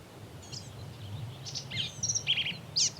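A vireo sings from a treetop, giving short, bright chirping phrases in an irregular series that grow louder toward the end over quiet outdoor background.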